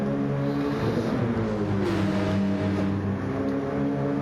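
League 2 race cars battling on the St Croix circuit, several engines droning and revving together at high pitch, one rising and falling as it passes close, loud and continuous with no talk.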